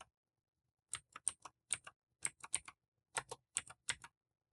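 Keys clatter on a computer keyboard as a command is typed at a command prompt, several quick bursts of crisp close clicks separated by short pauses, alone in silence.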